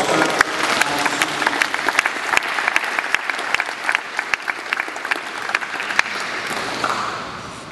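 Steady applause from a gathered crowd welcoming a McMaster University men's basketball recruit, dense clapping with sharp individual claps standing out, sustained for several seconds before tapering at the end.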